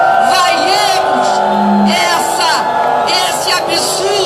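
Large crowd at a women's political rally for democracy with Dilma, loudly shouting, whooping and booing in a dense continuous roar, voices rising and falling throughout.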